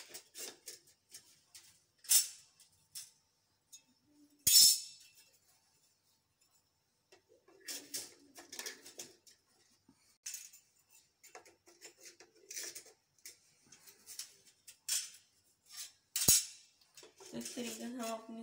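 Metal transformer core laminations are slid into a wound coil one at a time, giving sharp isolated clinks and scrapes at irregular intervals against near silence, close and clear, with brief quiet speech between.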